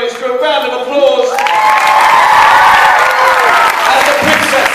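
Audience applause and cheering at a Chicago TARDIS 2012 fan convention stage performance, rising after a second into a steady, dense wash of clapping and crowd noise that holds at full level to the end.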